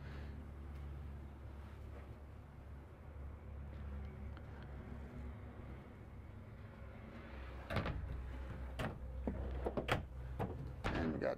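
Several sharp wooden knocks and slides of drawers opening and closing in quick succession, close up, after a stretch of low steady background hum, inside a 2017 Jayco Alante 31V motorhome.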